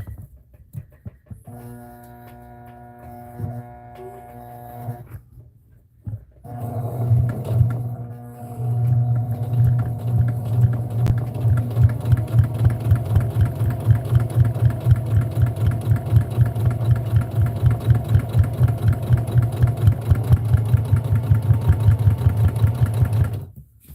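A home sewing machine stitches fabric scraps into a potholder, a steady rapid mechanical chatter that runs continuously and loud for most of the stretch after a brief pause and a short earlier burst.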